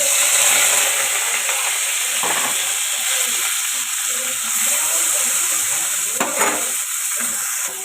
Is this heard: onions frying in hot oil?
yes